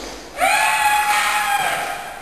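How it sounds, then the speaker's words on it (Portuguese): A high, sustained scream in a Portuguese-language radio drama made during a radio workshop, rising sharply and holding for about two seconds, loud and alone with no talk over it. "A gente ouve uns gritos."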